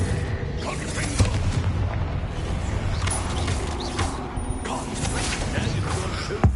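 Confringo blast spells exploding during a Hogwarts Legacy battle, a dense rolling barrage of booms and crackles with magical impacts and creaks running throughout, with voices calling out over the fighting.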